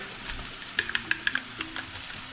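Garlic sizzles in a hot pan for the Aruban and Curaçaoan dish keshi yena, a steady frying hiss with a quick run of crackling pops partway through, close and with no talking.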